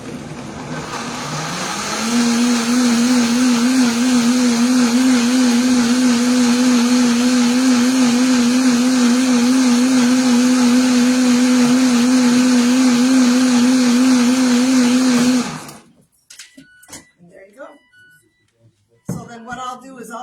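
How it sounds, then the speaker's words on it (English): A Vitamix blender spins up with a rising whine, holds a loud steady motor hum for about thirteen seconds, then cuts off, followed by clattering and quiet handling noises. "This is a Vitamix blender."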